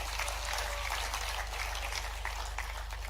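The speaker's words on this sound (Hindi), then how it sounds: "एक बार जोरदार ताली बजा करके" Audience at a regional tourism conclave in Gwalior clapping, a dense, even patter of applause heard from a distance and fairly faint, steady for the whole stretch.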